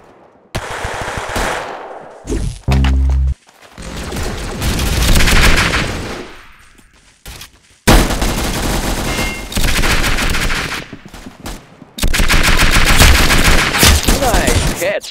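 Rapid automatic gunfire in the Roblox shooter Arsenal, loud sustained bursts in several long stretches separated by brief gaps and a short tonal game effect.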